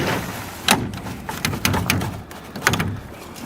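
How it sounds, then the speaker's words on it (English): Greenhouse doors sliding and closing at night, a few short clattering knocks and scrapes spaced over a few seconds, fairly close, with no talk. "Doors are closed."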